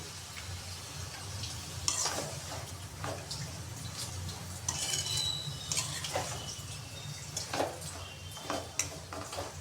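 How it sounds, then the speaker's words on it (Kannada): Grated carrot palya sizzling gently in a pan while a spoon stirs it, steady soft frying hiss with light scraping and occasional clinks, quiet and close, no talking. "ಇದು ಚೆನ್ನಾಗಿ ಫ್ರೈ ಮಾಡ್ಕೊಂಬಿಡಿ ಗೊತ್ತಾಗುತ್ತೆ ನಿಮಗೆ ಬೆಂದಿದೆ ಅಂತ"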